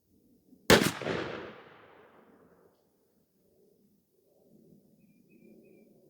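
A single loud shotgun blast from a Mossberg 500 with a 28-inch barrel firing a Winchester Super X 3-inch 1-7/8 oz #5 shell, sharp and close with a decaying outdoor echo, followed by quiet ambient sounds.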